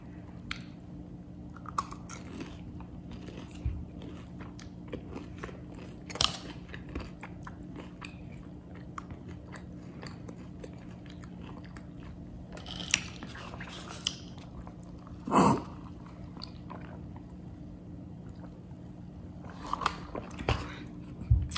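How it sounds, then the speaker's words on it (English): Shrimp being bitten and chewed up close, with soft crunches and wet squishes coming in scattered bursts over a steady low hum, with no talking. "Now shrimp. Taste it by itself first."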